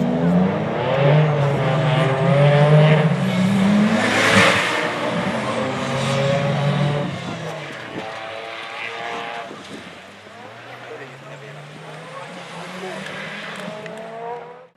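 Group B rally cars, Audi Quattros and a Peugeot 205 T16, roar past at racing speed in the 1985 season, engines revving hard and loud throughout, with a background voice mixed in.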